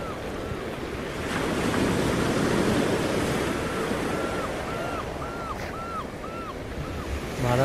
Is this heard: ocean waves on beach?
yes